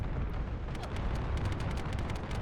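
A video game gunfire barrage fills the space with a dense, continuous low rumble of booms and rapid crackling shots. It holds at a steady, heavy level with no pauses.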